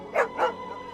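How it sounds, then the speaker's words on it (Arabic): A dog gives two quick, close barks in a row, the second slightly softer, followed by a brief faint tail. "نسيتوا الكلب بتاعكم. الكلب يا كابتن."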